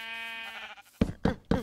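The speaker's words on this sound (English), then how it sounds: "these are the last two sheep I need" A Minecraft sheep gives one drawn-out electronic bleat, followed by three sharp, evenly spaced hits in quick succession, all close and clear.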